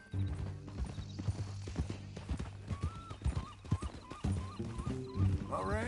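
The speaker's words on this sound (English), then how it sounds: "That new horse?" Horse hooves clip-clop steadily on a trail in Red Dead Redemption 2, a close rhythmic patter with occasional whinnies and game music layered underneath.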